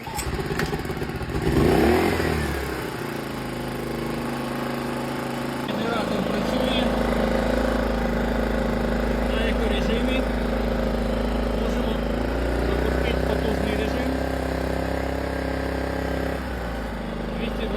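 A petrol generator starts with a brief rough burst, then settles into a steady, loud engine drone that runs close and continuous, with occasional clatter and someone talking over it.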